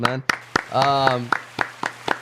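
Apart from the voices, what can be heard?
audience applause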